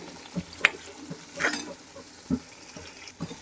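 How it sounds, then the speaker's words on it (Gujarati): Green pigeon peas (tuvar) cooking in a pan for a Gujarati vegetable dish, soft stirring scrapes and faint bubbling sizzle at low volume, a few distinct clinks, no talk. "હવે આપણે આ જો તુવેરના દાણા મેં એડ કરી દીધા છે હવે આને થોડીક વાર આપણે ઉકળવા દઈશું"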